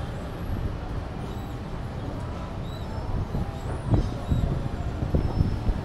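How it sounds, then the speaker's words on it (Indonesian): A KRL JR 205 electric commuter train from the Cikarang direction pulls into platform 5 at Bekasi station, a steady low rumble of wheels and motors with faint high squeals, growing slightly louder near the end. "Ini dari arah timur ada KRL JR 205 dari arah Cikarang ya."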